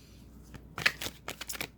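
Tarot cards being shuffled by hand, a run of soft papery riffles and flicks in irregular bursts, close and fairly quiet with no talking.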